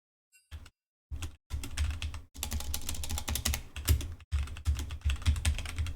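Fast, continuous typing on a computer keyboard, with dense clattering keystrokes close to the mic after a few brief pauses at the start, played alone without talk.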